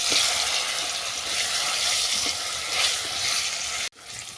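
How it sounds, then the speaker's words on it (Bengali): Water lily roots dropped into hot oil in a home kitchen pan, a loud continuous sizzle and crackle of frying that runs steadily before a sudden cut near the end. "এই ভাজা তেলের মধ্যেই শাপলার মূলটাকে আমি দিয়ে দিলাম"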